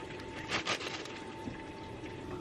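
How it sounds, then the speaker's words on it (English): Organic raspberries being rinsed under running water, a steady close hiss of flowing water with a few louder splashy swells early on. "finally I have some organic raspberries. I'm just going to give a little rinse."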